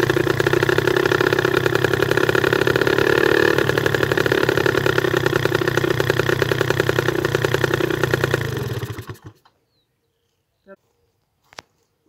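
A 2020 Motoroma RK 180/45 paramotor engine runs warm with a loud, steady drone for about nine seconds, then cuts out abruptly, leaving silence broken by a couple of brief knocks.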